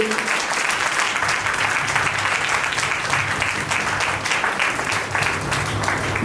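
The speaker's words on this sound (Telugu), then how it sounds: "అందరూ చప్పట్లు కొట్టండి." A church congregation claps hands together during Sunday worship, a dense continuous round of loud applause from many people, steady throughout.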